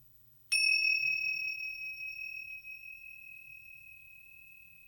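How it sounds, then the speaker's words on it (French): A single small meditation bell is struck once, giving a clear bright ring that hangs and slowly fades over several seconds in an otherwise quiet room. "OK, là, les petites cloches."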